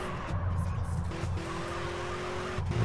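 A car drifts in the MTA racing game with a long, steady tire squeal that holds through most of the moment, laid over a loud, continuous engine roar.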